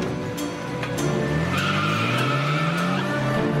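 A car turning around sharply, its tires skidding and squealing loudly over a revving engine, the screech rising and sliding in pitch for several seconds, close and continuous.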